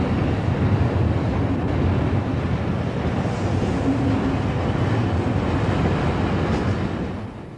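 An express passenger train on the Euston to Manchester line in 1969 roars past, a loud, steady broadband rumble holding for several seconds before easing off at the very end, with no voices.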